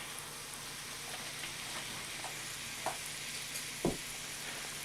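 Chicken simmering in a cream sauce over medium heat, a soft continuous sizzle and bubbling with a few louder pops and stirring knocks, no speech.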